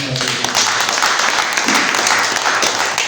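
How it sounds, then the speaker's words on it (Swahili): A church congregation applauding: dense, steady clapping from many hands filling the space, loud and sustained from start to finish. "Tumpigie Bwana wetu makofi."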